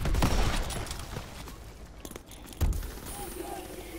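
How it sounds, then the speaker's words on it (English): Gunfire from snipers in a World War II video game, set on the Aachen map, comes as a loud burst of overlapping shots at the start and another sharp crack later, with footsteps and game noise between. "three snipers shooting at me then"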